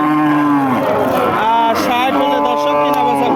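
Cows low at a busy Bangladeshi cattle market where dry cows are traded for meat, a long drawn-out moo rising over steady crowd noise and voices throughout.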